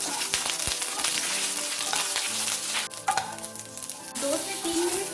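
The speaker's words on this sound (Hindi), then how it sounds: "हम उसमें बैंगन को डाल देंगे। अभी इसको मीडियम फ्लेम में 2 से 3 मिनट तक फ्राई करेंगे।" Eggplant pieces sizzle loudly in hot oil in a kadhai over a medium flame, a dense, continuous frying hiss with brief stirring scrapes partway through.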